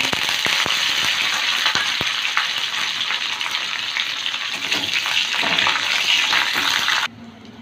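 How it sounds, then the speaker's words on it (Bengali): Mustard seeds, green chillies and curry leaves crackle and sizzle in hot refined oil in a kadai, a loud steady hiss with scattered sharp pops near the start, running continuously before cutting off abruptly at the end. "তেলটা গরম হয়ে গেছে দিচ্ছি হাফ চামচ সর্ষে কয়েকটা কাঁচা লঙ্কা কয়েকটা কারি পাতা"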